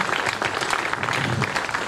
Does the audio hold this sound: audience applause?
yes